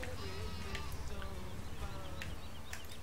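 Sheep bleat several times on a farming video game, with short wavering calls standing out over a steady low background hum while a voice talks.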